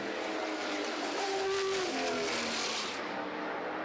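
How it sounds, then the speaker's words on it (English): A Lola T332 Formula 5000 race car with a V8 engine howls past on track, a loud rising and falling engine note with a brief pitch sweep in the middle, fading sharply near the end. "The howl of Stan Redmond's ex-Kevin Bartlett, ex-Johnny Walker, Lola T332"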